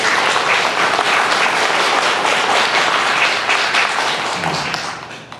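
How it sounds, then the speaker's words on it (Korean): A large church congregation applauds loudly and steadily for several seconds, the clapping fading toward the end. "그 담임 목사님께서 한번 박수하시면 좋겠어요."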